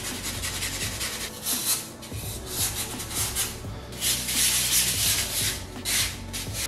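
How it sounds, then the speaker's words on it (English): Sanding a carved form for a bluegill fish taxidermy mount, close repeated rasping strokes in an uneven rhythm over several seconds, without talk. "We just sanded a little more outside."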